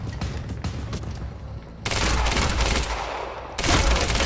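Rapid bursts of gunfire from the video game Quantum Break, loud and close, with a dense volley starting partway through and another heavy burst near the end.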